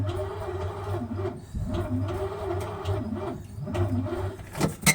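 A car engine cranks without starting, the starter churning in a steady rhythmic pulse that never catches. It stays close and fairly quiet, then ends with a few sharp clicks.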